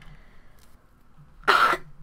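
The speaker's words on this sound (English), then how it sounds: "Excuse me, I just had to cough." One short, hoarse cough sounds close by after a quiet stretch, during Minecraft gameplay.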